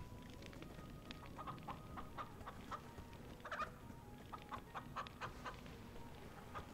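A chicken in Minecraft: Story Mode clucks repeatedly in short, evenly spaced calls, moderately close, over a steady low background hum with no talking.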